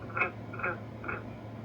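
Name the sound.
frogs croaking near a water feature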